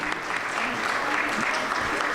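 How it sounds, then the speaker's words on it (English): An audience at a school board meeting claps for a parent volunteer, a brief, moderately loud burst of applause with some voices mixed in. "Give her a round of applause"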